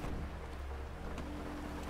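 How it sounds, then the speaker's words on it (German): Steady rain in GTA V Online, a continuous hiss with low rumbling beneath, heard from inside a vehicle, fairly faint and unbroken, with no voices. "Wie geil das klingt mit dem Regen."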